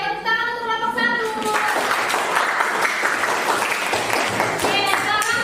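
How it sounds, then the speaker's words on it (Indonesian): Classroom applause for a student group, a dense burst of clapping from many hands that starts right after a teacher's voice and keeps going. "tepuk tangan untuk kelompok 1"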